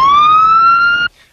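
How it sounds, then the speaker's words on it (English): A police car siren sounds in one loud, sustained rising wail that cuts off abruptly after about a second, alone and close. "Bravo 104? Sound your siren."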